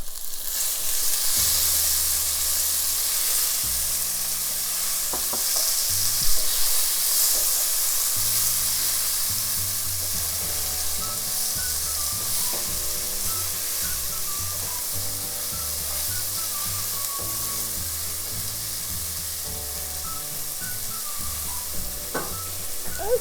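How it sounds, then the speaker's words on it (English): Tomatoes hit a hot pan of tempering for yellow moong dal tadka, giving a steady, loud frying sizzle with stirring scrapes throughout, no talking. "now we're gonna add the tomatoes in there"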